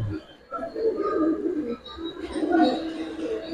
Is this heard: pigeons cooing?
yes